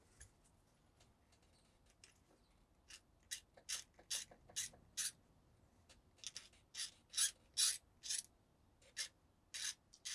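400 grit sandpaper sanding a plastic part on a 1/25 Revel Peterbilt 359 model truck, heard as a string of quick, crisp scratchy strokes in short bursts, close and fairly quiet between passes.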